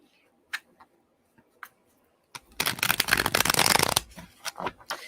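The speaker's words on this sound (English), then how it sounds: "I'm trying to shuffle quietly so I don't blow anybody's eardrums out." A deck of playing cards being shuffled close by, a burst of dense riffling and flutter lasting about a second and a half, followed by a few sharper card snaps and taps; a couple of isolated clicks come before it.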